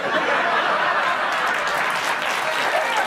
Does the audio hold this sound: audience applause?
yes